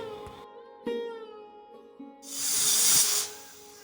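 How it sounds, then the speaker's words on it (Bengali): A pressure cooker cooking rice in a home kitchen lets out a short, loud burst of steam hiss, preceded by faint clinks and kitchen sounds. "ভাত বসিয়েছিলাম ভাতে সিটিয়ে দিয়ে দিল"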